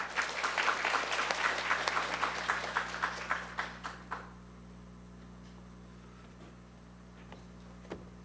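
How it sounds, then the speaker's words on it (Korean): Audience members at a school education briefing for parents in Busan applaud to welcome the education superintendent, a moderate round of clapping that thins into a few sparse claps and dies away over a steady hum. "큰 박수로 환영해 주시기 바랍니다."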